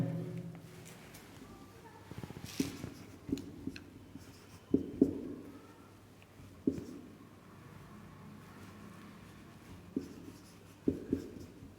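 A pen scratches across paper close by as the statement of Coulomb's law is written out by hand in a physics lesson, with uneven strokes and small taps between words.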